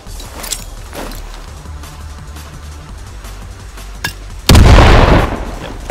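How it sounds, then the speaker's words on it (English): A grenade explodes in the Battalion 1944 video game: a loud, heavy boom after a few seconds of quieter ambient game sound and light clicks. "Jump and throw, that will explode by the side. It's a good nade."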